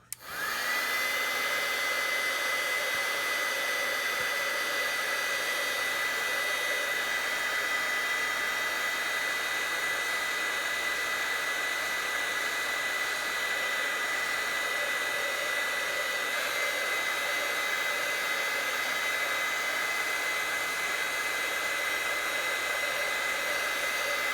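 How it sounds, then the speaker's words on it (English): A heat embossing tool blows hot air steadily over a stamped card coated with Versamark ink, a loud, constant whirring hiss with a high whine that runs unbroken and close by, with no talking. "So I'm just going to really quickly heat this up with my heat tool."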